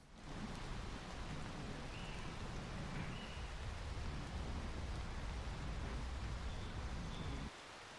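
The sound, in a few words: heavy rain pouring in a forest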